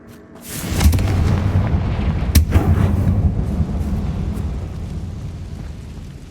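Bombarda blasting spell detonating in Hogwarts Legacy: a sharp onset swells into a loud, deep booming explosion with a cracking burst midway, then a long rumbling tail that slowly fades, with no speech.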